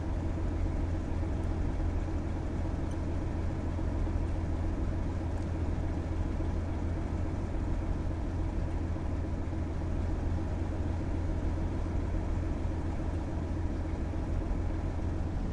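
A diesel locomotive engine in Train Simulator 2019 idles with a steady, deep throbbing rumble, unchanging and continuous throughout with no voices.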